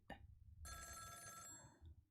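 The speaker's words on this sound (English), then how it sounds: "The telephone is ringing." A telephone bell rings in the Ghost Trick: Phantom Detective video game, a short sharp ring followed by a longer sustained bright ring, clear and alone with no voices.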